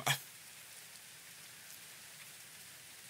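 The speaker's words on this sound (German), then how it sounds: "Du stehst draußen im Regen" Steady, soft rain falls in the medieval colony-building game Going Medieval, a faint even hiss throughout after a brief sharp tap at the start.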